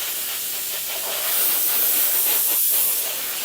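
Airbrush spraying weathering wash onto a Terminator model, a steady close hiss of air and paint mist that swells louder midway and holds, with no talking.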